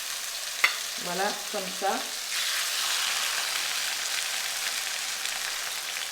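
Fish is placed into a hot pan with garlic and salt, a few soft knocks giving way to a steady, even sizzle; a voice speaks briefly near the start.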